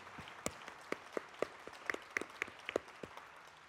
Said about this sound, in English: please give our speakers another round of applause